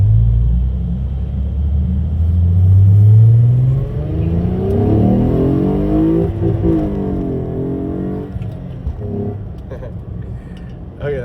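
Lexus IS250 fitted with Megan Racing motor mounts accelerating hard in a pull, engine note climbing steadily in pitch from a low rumble, loud and close throughout with no talk over it.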